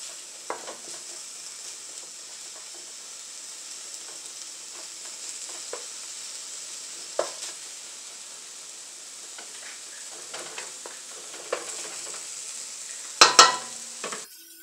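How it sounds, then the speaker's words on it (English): Seasonings browning in a hot pan for a chicken and angel hair dish, a steady soft sizzle throughout with occasional stirring clinks and scrapes, a sharper clatter near the end, no talking. "I just want to brown these seasonings just a tiny little bit."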